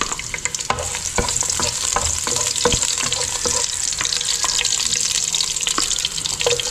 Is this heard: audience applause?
no